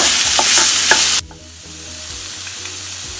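Chopped onion hits a hot pan for a sole fish dish, giving a loud, bright burst of sizzling with stirring that cuts off abruptly after about a second, leaving a faint low hum.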